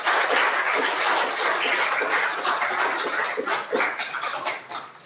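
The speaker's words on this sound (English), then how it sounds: "Round of applause for Travis" Audience applause at an art forum held at a school of creative arts, a dense burst of many hands clapping that carries strongly and then thins out and fades near the end.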